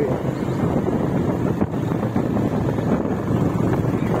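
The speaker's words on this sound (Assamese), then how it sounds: "ইমান ঠাণ্ডা বতাহ মাৰি আছে ইয়াত এতিয়া" Cold wind roaring across the high mountain road at Mayudia Pass in Arunachal, a loud steady buffeting rush that fills the microphone with no break.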